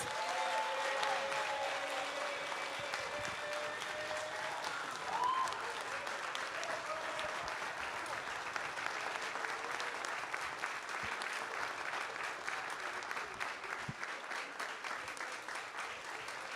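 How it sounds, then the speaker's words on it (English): A crowd applauds steadily at a hip hop film festival Q&A after party, sustained clapping at moderate distance with faint voices and some cheering mixed in. "So, if you can please give a round of applause."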